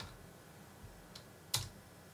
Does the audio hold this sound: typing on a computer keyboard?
yes